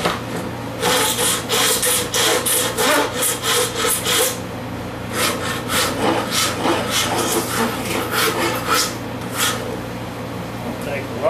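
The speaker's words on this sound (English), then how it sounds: "It'll take a lot of rasping down, but that's alright." Hand rasp shaping a piece of hickory wood, repeated rhythmic scraping strokes, close and loud, with a person talking over parts of it.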